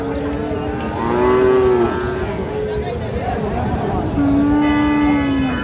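Cattle at a livestock market selling Friesian and crossbred bull calves, giving loud, long, drawn-out moos close by, two clear calls separated by a pause over steady crowd din and voices.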